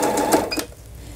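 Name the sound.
Lion E5100 sewing machine automatic thread cutter trimming thread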